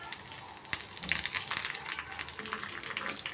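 Urad dal, mustard seeds and curry leaves sizzle and crackle in hot oil in a pan, a soft, steady frying hiss dotted with small pops.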